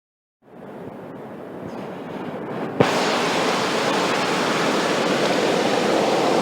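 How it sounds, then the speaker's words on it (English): Gold Creek rushing at Lower Falls in Golden Ears Park, British Columbia, a loud, continuous roar of water that swells in and then jumps louder after a brief knock, with no voices. "Okay, down there is Gold Creek."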